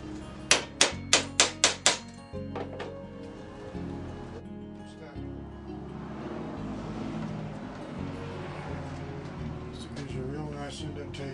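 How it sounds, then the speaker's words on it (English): A hammer strikes a metal punch against a wing pattern laid on wood for a vertical axis wind turbine, about six sharp, close taps in quick succession, followed by quieter workshop sounds. "Punch that hole."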